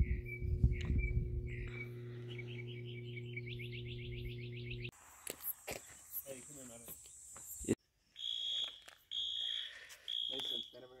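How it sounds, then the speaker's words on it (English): Outdoors at a large canyon, a shrill, bell-like ringing like a fire alarm goes off over and over in rapid trills. It breaks off and restarts several times amid light background noise. "Sounds like a fire alarm."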